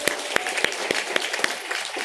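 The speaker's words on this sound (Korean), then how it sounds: "한 번 더 박수로 힘차게 격려하겠습니다" Scattered clapping from a small church congregation after a baptism, a brief patter of separate claps heard from a short distance.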